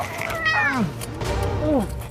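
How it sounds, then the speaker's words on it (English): Several cats meow in close succession, two or three clear, rising-and-falling calls up close over a steady low background hum, with no talking. "Why are there so many cats in here?"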